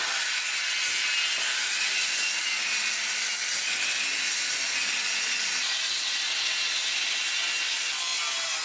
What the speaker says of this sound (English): now I'm going to cut the short ways, and then I'll cut one long way